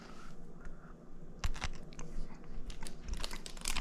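Chocolate-covered espresso beans are chewed close up, giving irregular crisp crunches and bites over soft mouth noises, with no talking.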